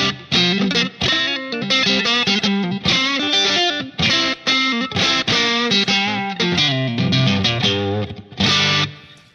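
Electric guitar played through a Line 6 Pod HD500 Blackface Lux Vib amp model, based on a Fender Deluxe Reverb with vibrato, turned up to full volume: loud, driven chords and riffs strummed continuously and rhythmically, with no talking.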